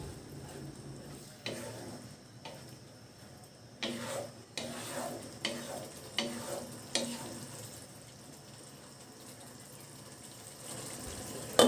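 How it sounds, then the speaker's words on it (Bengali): Ground spices for a broiler chicken bhuna being stirred and fried in a pan with a splash of water, making a series of moderately loud, close scraping strokes at irregular intervals over a low, steady sizzle. "এবার সবগুলো মশলা একটু নেড়ে নিচ্ছি।"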